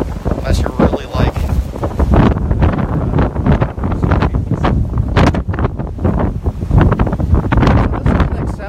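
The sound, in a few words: strong wind gusts over a reservoir in a winter storm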